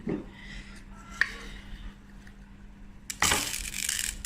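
A few small clicks, then a sudden loud rush of dry rice pouring into a metal steamer, hissing and rattling until the end.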